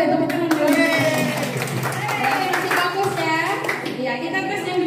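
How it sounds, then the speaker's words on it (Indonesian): A classroom group of children claps hands together, a dense continuous patter heard under lively children's voices and chatter. "Iya, hore tepuk tangan dulu."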